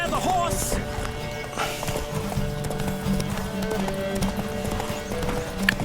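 Horse galloping in The Witcher 3 video game, a steady rapid clip-clop of hooves running throughout, set under game music and voices talking over it.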